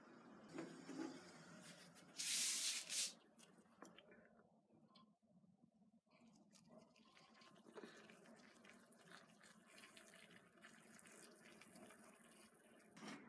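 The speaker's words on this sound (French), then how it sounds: "je vais rajouter l'eau" Tap water briefly poured into a pot of pasta, a loud broadband rush lasting about a second, then quieter kitchen handling noises and low room hum with no talk.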